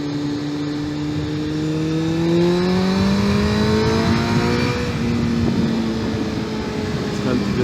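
A vehicle engine revs and climbs in pitch during a fun ride on a road in Norway, a steady droning tone sweeping upward under wind noise while someone talks over it.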